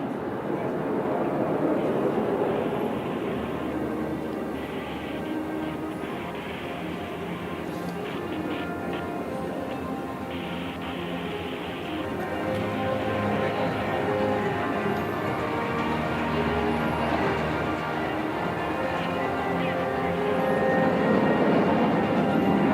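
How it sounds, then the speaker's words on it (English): A military jet roars overhead at an Indian Air Force air show on Chennai's Marina Beach, a loud, sustained engine rumble that swells toward the end, with a commentator talking over it. "You will see 3 aircraft flying in together for the next maneuver."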